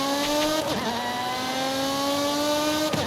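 A Lotus 311 in Forza Horizon 5 roars loudly and steadily, its engine note briefly dipping and surging twice as if shifting or blipping the throttle, with no voices over it.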